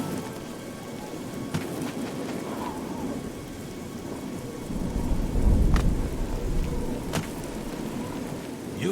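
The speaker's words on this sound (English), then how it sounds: "the rain falls endlessly, like tears of misery from a stricken child" Steady rain pours over a dark, charcoal-black landscape in the Oblivion video game, with a deep rumble of thunder swelling midway and a few sharp cracks cutting through the constant hiss.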